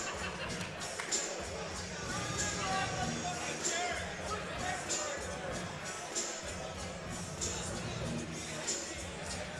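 A standing-room-only crowd at an amateur MMA fight event fills the hall with steady murmur and chatter, with someone talking over the din throughout.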